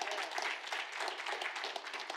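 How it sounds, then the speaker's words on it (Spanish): A church congregation applauds, a brief burst of dense clapping from many hands with no talking over it. "Denle un aplauso al Señor."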